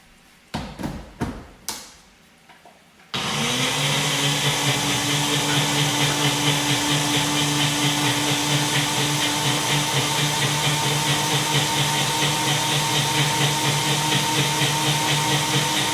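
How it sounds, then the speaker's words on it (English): A countertop blender whipping up salad dressing: a few clunks and taps come first, then the motor starts and holds a loud, steady whir with no talk. "I'm gonna take it over to the blender. You guys are gonna hear the little whiz and whir for just a moment"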